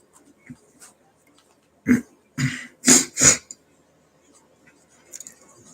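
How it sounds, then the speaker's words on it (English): A few rough throat-clearing grunts in a short cluster, close to the listener, with quiet pauses before and after. "Let me clear my throat."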